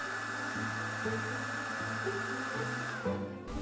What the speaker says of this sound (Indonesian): saya pakai hair dryer untuk manasin lemnya